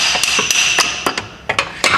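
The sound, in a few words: small hammer hitting rusted CV axle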